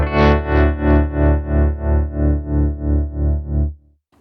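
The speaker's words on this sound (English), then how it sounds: "going to have a lot more of a vivid, throbbing tremolo effect" A held guitar chord through the Morgan Amps Suite pulses with a deep, vivid tremolo, about ten even throbs at a steady rate, loud and close, then cutting off.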